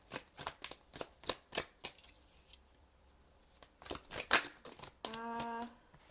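Oracle cards shuffled by hand in a series of quick, crisp riffling bursts, close and fairly quiet, followed by a brief sharper crackle and a short tonal buzz near the end.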